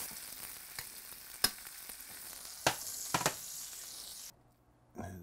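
Food sizzles steadily in a very hot pan for a loaded baked potato dish, a close, bright hiss broken by a few sharp crackles and pops before it briefly cuts to silence.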